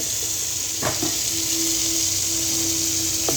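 Tomatoes simmering in a pan for homemade taco meat, a steady hiss and sizzle throughout with a couple of faint clinks from a utensil.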